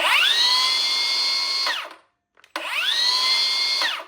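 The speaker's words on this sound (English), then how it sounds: "So here's the saw spinning freely with no load on it." A Milwaukee cordless saw, fitted with a fully charged battery, whines as its blade spins freely under no load, in two steady high-pitched runs that each wind down, split by a short silence and a click before it starts up again.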